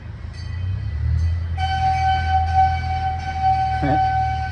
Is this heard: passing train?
yes